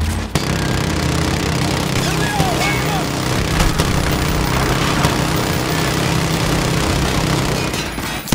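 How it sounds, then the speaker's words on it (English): Dense, sustained gunfire and explosions from a Call of Duty: Modern Warfare 2 campaign battle with sniper fire, loud and continuous throughout under a low engine-like rumble, with shouted voices mixed in. "We're taking sniper fire from multiple directions."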